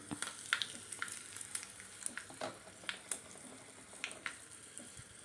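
Fenugreek seeds and dried red chillies frying in hot oil for a taro and sweet potato sambar, faint soft sizzling with scattered small crackles and pops.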